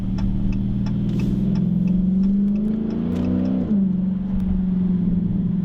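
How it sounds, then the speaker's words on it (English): A 2021 Dodge Challenger Scat Pack T/A engine with an aftermarket exhaust rumbles steadily, its revs climbing and then dropping sharply, a deep exhaust growl close by with no talking. "this one also does have an exhaust on it, so it does sound a bit meaner"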